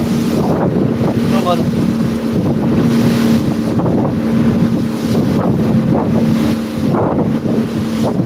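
A boat travelling on the sea off a beach, with a steady engine hum, rushing wind buffeting the microphone and water washing past the hull, loud and continuous throughout.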